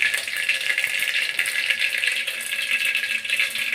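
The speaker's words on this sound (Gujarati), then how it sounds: "બે ત્રણ લીમડાના પાંદડા નાખી દઈએ" Leaves crackle and spit in hot oil, a continuous bright sizzling rattle that stays steady and close without any voices.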